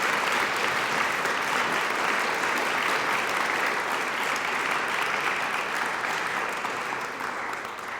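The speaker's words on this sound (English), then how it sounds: "you guys give them all a big clap" A room of diners gives a big round of applause for the staff working an event, a thick, sustained clatter of many hands, close and loud, tapering off near the end.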